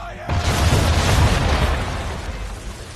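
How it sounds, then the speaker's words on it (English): A ship's cannons fire a broadside with round shot in Assassin's Creed III, a loud deep boom that rolls on into a long rumbling decay, with a voice heard faintly before the blast. "Bring around broadside, and when all guns are on target, call fire."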